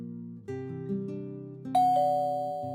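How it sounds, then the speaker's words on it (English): Doorbell chime in the visual novel game Amnesia Memories, a clear electronic ding-dong of sustained tones followed by a brighter, higher tone that rings out and fades, alone with no talk. "Ding dong."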